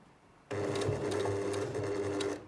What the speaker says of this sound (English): So I'm going to sew down to the end of my tape and go probably about 1 stitch beyond